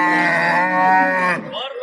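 A cow lets out one long, loud, close moo at the Qamashi livestock market, a deep drawn-out bellow that falls away at the end.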